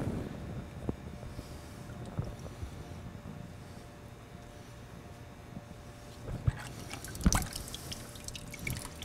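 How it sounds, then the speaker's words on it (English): Coolant trickles and drips from the drain plug of a stock radiator on a 2006-2013 BMW 335i/135i, quiet and steady, with a few louder splashes near the end. "When most of the coolant is done draining"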